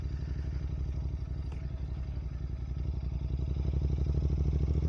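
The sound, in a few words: motorcycle riding on a muddy, slippery road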